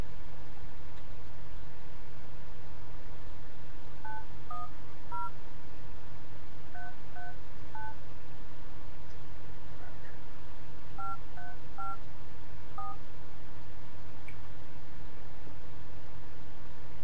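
Telephone keypad dialing tones beep in quick clustered bursts, in three groups a few seconds apart, over a constant hiss on a phone line while a call is being placed.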